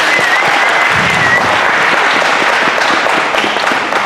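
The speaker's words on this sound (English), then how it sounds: "Clap." A small audience at a poetry recitation event claps loudly and continuously, the applause thick and close from start to finish with no talk over it.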